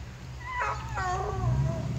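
A dog's drawn-out wavering howl outdoors in the rain in Vermont, rising and falling over a low rumbling background, fairly faint and distant.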